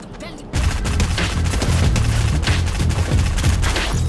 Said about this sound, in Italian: Fucile d'assalto.